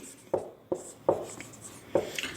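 Pen or pencil strokes of handwriting out a maths solution on paper, a few distinct scratchy taps and short scribbles, close and quiet with no speech.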